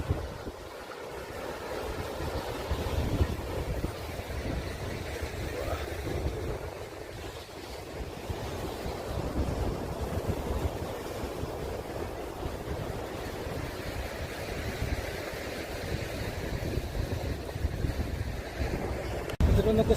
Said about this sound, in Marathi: हा आहे हिंद महासागर.